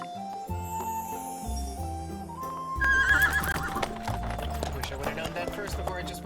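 Horse-drawn wagon ride in the video game Bravely Default 2: a horse whinnies and hooves clip-clop over a game music backdrop, with talk over it.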